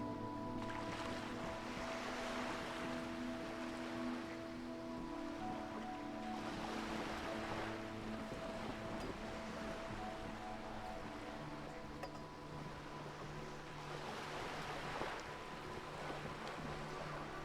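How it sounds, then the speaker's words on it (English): Gentle ocean waves wash in slow, broad swells through the Disco Elysium video game ambience, steady and soft, with low tonal hum layered beneath and no talk. "We got the gentle sound of waves behind us."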